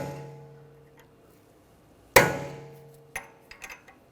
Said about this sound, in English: Just take a punch or a chisel and we'll just peen the edge of the nut over.